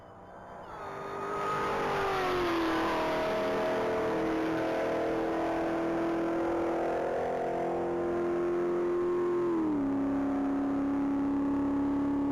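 A 2023 Dodge Charger with a 1,000-horsepower supercharged Hennessy Hellcat engine screams through a top-speed mile run, its loud, sustained high-rpm whine climbing steadily through gears with brief shift dips, close and continuous without speech.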